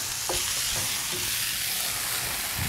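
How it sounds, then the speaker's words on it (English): Beans sizzle and crackle steadily in a hot pan, a bright continuous hiss with a few soft clinks of stirring. "that's sizzling away wonderfully"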